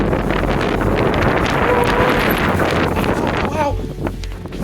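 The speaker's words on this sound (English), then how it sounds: "the wind is going haywire right now" Severe wind storm during a thunderstorm warning, blowing hard and continuously as a loud, close roar with heavy gusting buffeting the microphone across the whole stretch.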